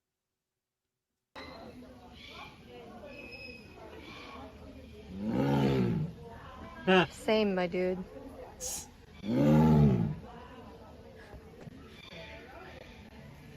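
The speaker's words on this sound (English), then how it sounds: "It's a young tiger learning to roar." A young tiger attempting to roar, two strong drawn-out roars with a few shorter bursts between them, heard close and loud while a person briefly talks.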